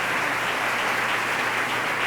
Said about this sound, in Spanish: Recibamos al hermano Gualberto con un fuerte aplauso